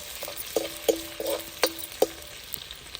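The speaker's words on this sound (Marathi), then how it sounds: "हे आलं आणि लसूणचे बारीक तुकडे केलेले ते टाकून घ्यायचे ते छानपैकी परतून घ्यायचे" Finely chopped ginger and garlic sauté with cumin seeds in hot oil for a vegetable soup, a soft continuous sizzle with a few distinct clinks and taps of a spoon stirring in the pan.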